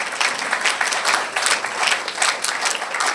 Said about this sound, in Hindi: जोरदार तालियां राजेश भाई के लिए